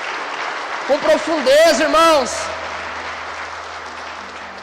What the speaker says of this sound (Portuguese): Aplauda a palavra do Senhor com todo entusiasmo